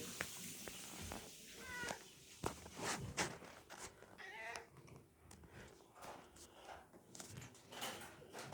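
A fat cat lets out a few short, rising meows amid shuffling, thumping movement and handling noises close by.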